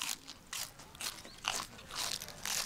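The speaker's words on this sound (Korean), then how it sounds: "잘 익은 배추 벌써 그냥 먹어도 소리부터 달잖아요" Someone bites and chews crunchy ripe napa cabbage grown in Pyeongchang, Gangwon, giving several close, crisp crunches in an irregular rhythm, quiet and with no talking.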